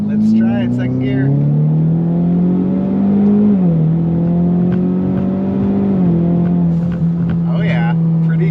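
A tuned Ford Mustang EcoBoost pulls hard in second gear, a loud steady engine drone climbing in pitch with a brief dip around a shift-like break, heard from inside the car with a voice talking over it.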